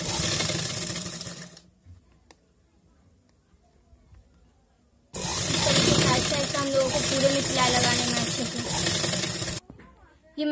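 A sewing machine stitches folded fabric for a sleeve design, whirring loudly in two long continuous runs separated by a quiet pause of a few seconds.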